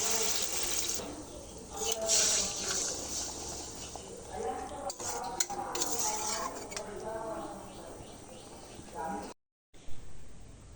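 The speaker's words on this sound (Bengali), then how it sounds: "এবারে দিয়ে দেব পরিমাণ মতো পানি" Water poured into a cooking pot holding sea fish (bhola fish) coated in spice paste, a steady splashing pour running through most of the clip, close and fairly loud, then a brief cutoff near the end.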